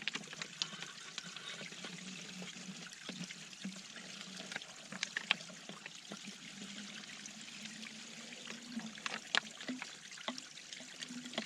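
Clean water poured and trickling outdoors on the Appalachian Trail, a faint, steady liquid stream with small drips and splashes and no talk.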